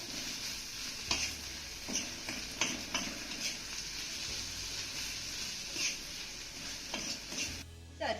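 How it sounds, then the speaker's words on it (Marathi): Okra thecha being sautéed in a pan, a steady sizzle running throughout with scraping stirring strokes every second or so, close and moderately loud, no talking. "तर इथे आपलं सर्व साहित्य चांगलं मिक्स करून झालं की हे दोन ते तीन मिनिट चांगलं आपल्याला परतून घ्यायचं आहे"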